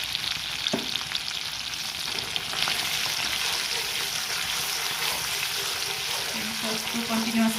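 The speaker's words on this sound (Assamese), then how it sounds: "চচটো কণ্টিনিউৱাছলি এইটো লৰাই থাকিব লাগিব যাতে তলত লাগি নাযায়" Pasta sauce sizzles steadily in a hot pan while it is stirred, giving a continuous close frying hiss with occasional scrapes from the spoon.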